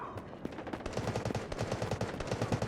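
Rapid automatic gunfire from the mobile shooter game Delta Force, fast rhythmic bursts of shots running almost continuously, loud and close with a brief sparse start.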